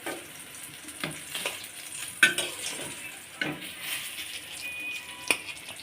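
Eggplant slices frying in a pan with a low steady sizzle, broken by several sharp clinks and scrapes of a utensil against the pan as the pieces are lifted out.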